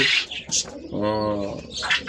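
Pigeons on a rooftop farm, a close, clear cooing call rising mid-clip over a busy background of other sounds and possible voices.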